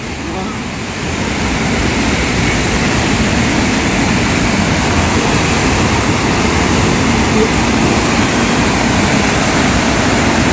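Saitwade waterfall roaring in a loud, steady, broadband rush of falling water that fills the whole clip from close by, with a slight swell at the start.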